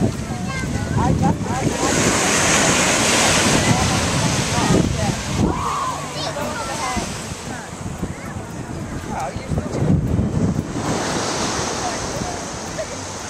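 Ocean surf at Sunset Beach in Cape May rolls and washes steadily with gusty wind buffeting the microphone, loud and close, with people talking over it.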